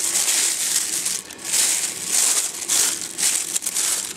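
A plastic bag holding welding rods is crinkled and crumpled by hand close up, giving bursts of crisp rustling that rise and fall in several waves with brief pauses between.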